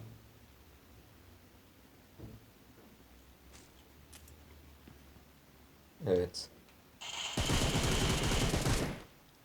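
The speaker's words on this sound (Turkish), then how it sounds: "Adamı havada vurduk abi." Gunfire in the mobile game PUBG Mobile on the Livik map: a quiet stretch, then a short sharp burst of shots and a longer, dense volley near the end. Faint talk runs underneath.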